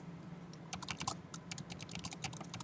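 Rapid, irregular typing on a computer keyboard while entering text into a PowerPoint slide, with many crisp key clicks in quick bursts, fairly close and steady, with no talking.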